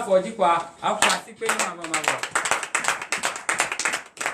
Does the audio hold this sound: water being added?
no